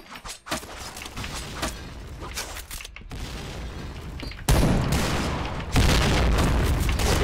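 A bomb explosion in the shooter game Point Blank comes as a sudden loud boom followed by a second surge of blast noise, standing out from steady gunfire and background battle noise.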